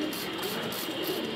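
Pigeons cooing close by, a soft, low, continuous burbling that fills the short moment alone, without talk.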